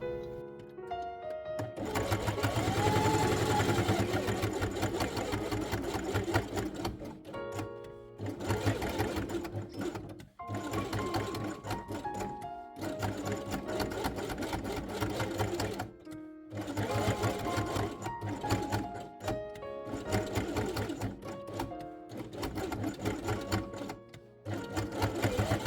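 Sewing machine stitching felt quiet book pieces, white over grey-threaded ear shapes sewn along the edge, running in long steady bursts with brief pauses, close and fairly quiet.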